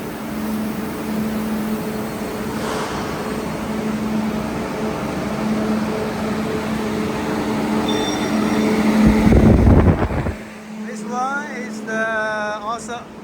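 A U baffle ceiling roll forming machine runs with a continuous steady mechanical hum and drone that swells into a loud rumble near the end before cutting off, leaving quieter whirring.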